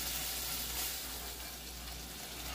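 Bacon and hash browns fry together in a pan on the stove at breakfast, giving a steady, close, even sizzle that runs unbroken throughout, with no voices.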